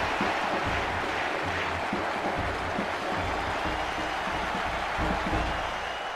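Stadium crowd in the N64 football game International Superstar Soccer 98 roars after a goal: a dense, steady wall of cheering and noise, loud and unbroken throughout, with no clear voices standing out.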